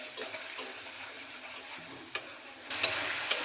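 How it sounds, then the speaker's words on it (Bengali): Spice paste of chili and coriander powder frying and being stirred in a pan, a steady soft sizzle with scraping stir strokes and a few clinks, growing louder near the end. "এখন মশলাটাকে ভালোভাবে কষিয়ে নেব।"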